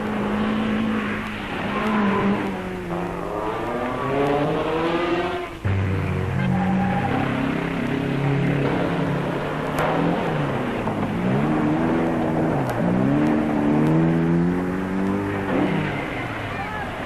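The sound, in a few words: rally cars passing, Cyprus Rally 1973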